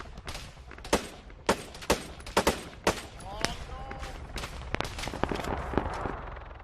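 Arma 3 gunfire, scattered sharp rifle shots and short bursts ringing at mid distance, irregularly spaced, with a brief higher whizzing sound partway through and a busier spell of fire toward the end.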